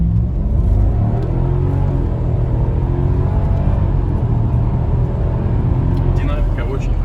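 A Mercedes W211 E500 with a swapped-in five-litre M113 V8 pulls away from a standstill, its engine droning in a steady low rumble that rises as it gains speed, with people talking over it inside the car.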